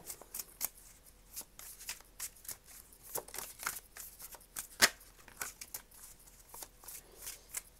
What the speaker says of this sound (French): je vais tirer 3 cartes de l'oracle d'Athéla.